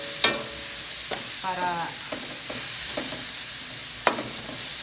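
Pork with a squeeze of calamansi stirred and frying in a pan for pancit palabok, with sharp utensil scrapes and clacks over a steady sizzle, and a brief spoken word partway through.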